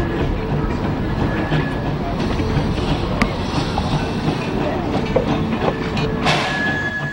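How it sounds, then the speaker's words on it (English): A train rolls past the historic baseball grounds at Greenfield Village during a game, loud and close, with continuous rumbling, clattering wheels and a faint squeal that holds steady throughout. "they stopped the baseball game so everybody can wave to the train that is going by us here at Greenfield Village"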